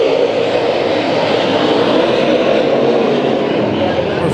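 Race cars take the green flag at Bakersfield Speedway for a Bud Nationals heat race, a loud, continuous engine roar filling the scene with a voice talking over it.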